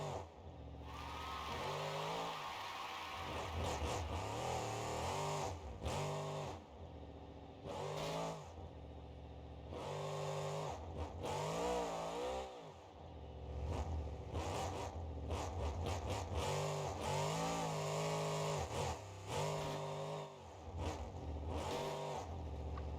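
A Ford F-150 monster truck drives in BeamNG.drive, its simulated engine revving up and down in repeated irregular surges with quiet gaps, fairly faint overall and with no voices.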